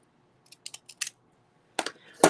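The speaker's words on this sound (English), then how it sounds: "I'm using my deckled scissors to cut this off." Deckled scissors snip through paper up close, a short run of crisp separate cuts followed after a pause by a couple of louder snips and a final rustle.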